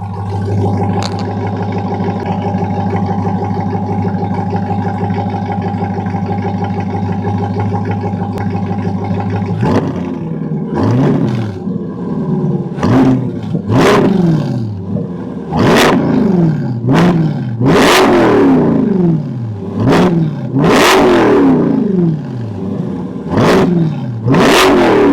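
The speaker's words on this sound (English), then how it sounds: "Let me give you guys these revs real quick" A loud C8 Corvette engine idles steadily, then its AWE track exhaust roars through a series of sharp repeated revs, each rising and falling quickly.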